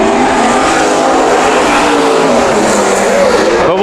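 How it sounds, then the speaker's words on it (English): Pro Stock race cars roar around Bakersfield Speedway in a loud, continuous engine wail that shifts in pitch as they pass, with no talking. "Pro Stocks are on the racetrack."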